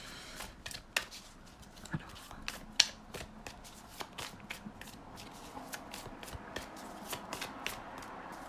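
Tarot-style cards being shuffled and laid out for a card reading, a close, quiet run of crisp flicks and snaps repeating irregularly, with the occasional louder slap of a card set down.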